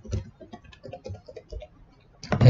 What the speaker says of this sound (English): Let's write a password in.